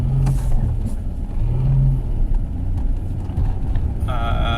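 A 1980s Alfa Romeo 90 with a V6 engine, a long-stored car with bad brakes and fuel line trouble, drives by with a steady low engine rumble and a couple of brief revs, a higher whine rising near the end.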